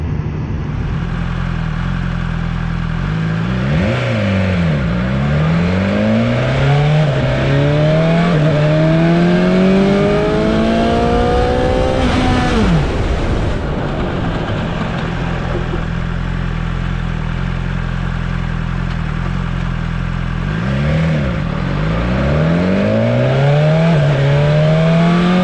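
A BMW S1000XR motorcycle accelerates hard through its gears, loud and close, the engine note climbing and dropping with each upshift, then easing off and pulling hard again near the end.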